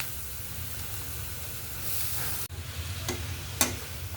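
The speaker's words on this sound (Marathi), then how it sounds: "आता कोबी 2 मिनिटं परतून घेऊ" Grated cabbage with chopped onion being stir-fried in a hot pan, a steady close sizzle with soft scraping stirs near the end and a brief clink, no voices.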